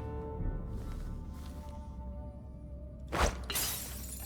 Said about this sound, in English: It sounded like Broken glass.